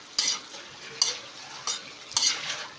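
Chili peppers are stirred into Bicol Express in a pan, four distinct scraping strokes about a second apart over a soft background sizzle, close and without speech.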